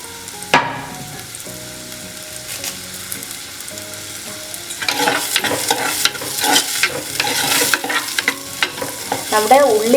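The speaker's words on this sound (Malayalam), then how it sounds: "നമ്മുടെ ഉള്ളി നന്നായിട്ട് വഴറ്റിയെടുക്കണം." Onions with curry leaves sautéing in a pan for Kerala-style fish curry, a soft sizzle at first, then clattering spoon strokes scraping and stirring repeatedly and close by.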